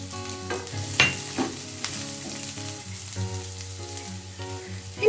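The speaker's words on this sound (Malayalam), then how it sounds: "സവാള, പച്ചമുളക് ചേർത്ത് നന്നായിട്ട് വഴറ്റാം." Onion, green chili, garlic and ginger sauté in a pan for brinjal masala curry, producing a steady sizzle with a few sharp stirring clacks over soft background music.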